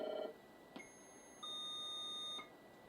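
Electronic beeps and sustained tones from the 1988 computer game Impossible Mission, a short warbling burst followed by a click and a steady modem-like high tone lasting about a second, faint and clean.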